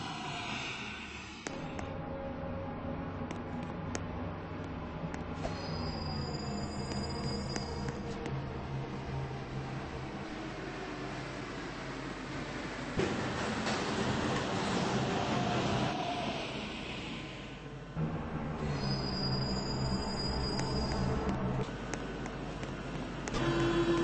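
In the Roblox game Odyssea, a train pulls into a station with a continuous mechanical rumble and a sustained tonal whine that shifts in pitch, briefly dropping away before resuming near the end.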